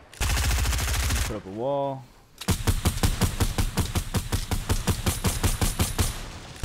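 Rapid automatic gunfire in the Fortnite video game, a long sustained burst followed after a brief pause by a steady run of loud, evenly spaced shots, with a player talking over the shooting.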